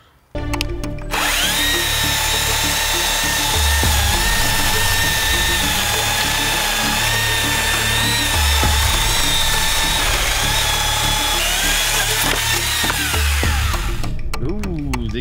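A Stihl MSA300 battery chainsaw cuts steadily through wood for about thirteen seconds, a loud, sustained whining drone with small shifts in pitch, starting and stopping abruptly, with no voices over it.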